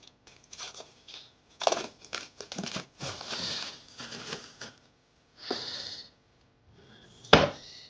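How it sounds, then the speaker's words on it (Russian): Irregular dull thuds and crinkling taps of pork chops being pounded under foil, in uneven bursts with short pauses and no talking. "И сейчас я их отобью и будем жарить"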